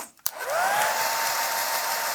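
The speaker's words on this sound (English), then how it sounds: "Oh, hairdryer!" A hair dryer clicks on and blows with a steady, loud whirring hiss and a rising whine, running continuously close by.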